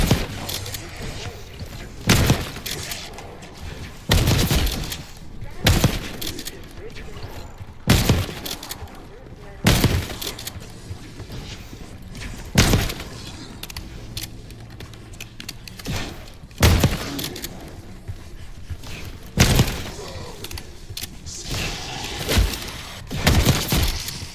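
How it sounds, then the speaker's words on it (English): Gunfire in the Call of Duty Black Ops 6 campaign, repeated sharp shots and thuds in irregular bursts roughly every few seconds over a murky game ambience, with talk heard in the background. "You hearing gunfire?"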